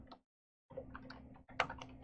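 Computer keyboard typing while entering an access list name during firewall setup, a quick run of close, light key clicks broken by a brief silent pause, then more keystrokes.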